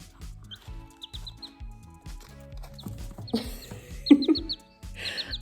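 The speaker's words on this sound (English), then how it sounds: "I just woke up and I'm feeding a chicken." A chicken clucks and chirps repeatedly while being fed, with short, bright, close calls that grow busier and louder toward the end, and no one speaks.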